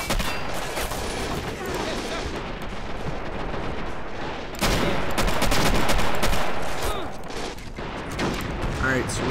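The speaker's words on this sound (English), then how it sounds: "Oh, that's a flak thing" A flak gun and other weapons firing in the video game Men of War Assault Squad 2 during an Omaha Beach landing, with dense overlapping bursts and booms that are continuous and loud and swell midway through.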